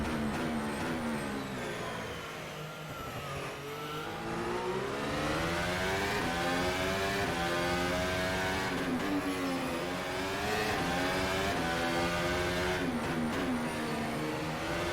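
Formula 1 race car in the rFactor 2 video game running through the Monaco tunnel, a loud, steady high-pitched engine howl with rising and falling revs over gear changes, sustained and close throughout.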